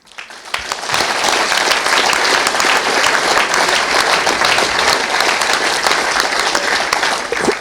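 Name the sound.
crowd applause at Vale Park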